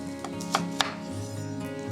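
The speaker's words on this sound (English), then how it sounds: "cut my Brussels sprouts in half" A knife slices Brussels sprouts in half on a cutting board, giving a few crisp, close cuts that spread out over a steady low kitchen hum.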